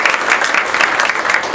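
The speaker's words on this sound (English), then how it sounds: "one more round of applause to Brandy." A luncheon crowd at a university athletics gathering gives a short burst of applause, dense clapping from many hands, close and fairly loud, with no voices over it.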